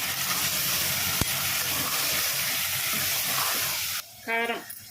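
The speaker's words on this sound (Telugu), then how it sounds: "ఇప్పుడు అంతా క్లీన్ చేసి పెట్టుకున్నటువంటి మటన్ వేసుకోవాలి" Cleaned mutton pieces sizzle loudly in a hot pan on a home stove, a steady close hiss filling the first four seconds before dropping off, with a brief clatter and a short stir-like sound near the end.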